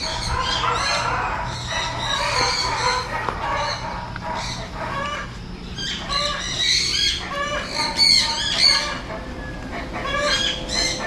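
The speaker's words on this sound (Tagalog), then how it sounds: "dito tayo sa mga ibon" Chickens cluck and a rooster crows among chirping birds, a busy chorus of fowl calls overlapping continuously with farmyard background noise.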